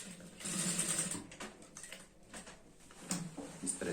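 A sewing machine stitches fabric for a girl's skirt, running in a fast steady whir in bursts with brief pauses between runs, close and fairly quiet with no voices.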